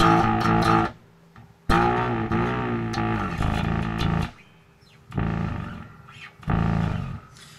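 An electric bass runs through an octave multiplexer effect, blended mostly octave with a little clean signal, high filter fully up and sub switch off, producing thick, growling, synth-like sustained notes in several loud phrases separated by brief quieter gaps.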